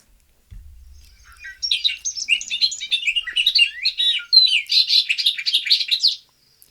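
Bird song from what may be a field sparrow in an open field, a jumbled run of rapid high chirps and notes, clear and fairly close, following a brief low thump at the start.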